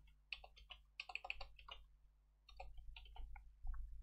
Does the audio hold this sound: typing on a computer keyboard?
yes